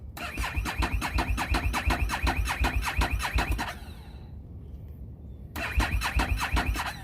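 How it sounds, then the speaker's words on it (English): A crash-damaged salvage motorcycle's fuel pump whirs on, heard as a loud, rapid pulsing buzz that stops for about two seconds and then starts again. Nobody speaks. "I only hear the fuel pump cutting on"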